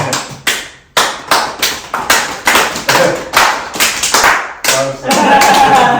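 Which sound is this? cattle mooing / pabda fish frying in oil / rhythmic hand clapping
rhythmic hand clapping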